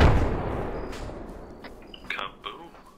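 A heavy explosive detonation in the military game ArmA 3 booms loudly at the start and rolls off into a long fading rumble, with a few sharp distant cracks following near the end.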